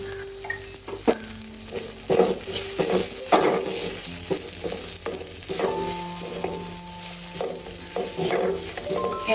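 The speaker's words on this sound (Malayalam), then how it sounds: "ഉള്ളിയൊക്കെ നന്നായിട്ട് മൂക്കാനായിട്ട് നമുക്ക് കുറച്ച് ഉപ്പിട്ട് കൊടുക്കാം." Onions fry in a pan with a continuous sizzle while a spoon stirs and scrapes against the metal in irregular strokes, close up and without speech.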